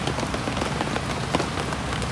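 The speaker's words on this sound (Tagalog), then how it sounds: "malakas yung ulan" Heavy rain pours outdoors at a hammock campsite in the Philippines, a dense, constant hiss with scattered close drops spattering on nearby surfaces, no voices over it.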